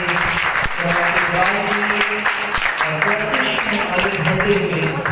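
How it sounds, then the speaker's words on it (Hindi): Congregation applauding during Sukkot worship at the Feast of Tabernacles, a dense, steady wash of many hands clapping throughout, with voices mixed in underneath. "बेहतर जोरदार तालियां बजाएंगे"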